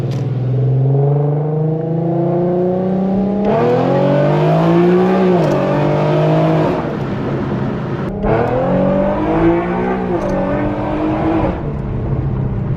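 A tuned Infiniti Q50 revving hard, its loud engine climbing and falling in long sweeps with crackling exhaust pops between pulls, close and alone.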